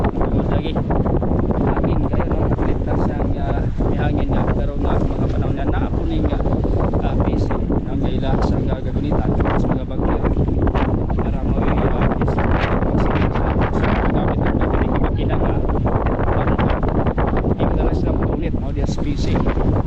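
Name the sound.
wind at the sunken cemetery, Camiguin Island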